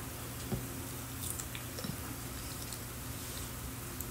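A crunchy persimmon being chewed, with a couple of soft bites and squishy mastication close by, quiet and without talk.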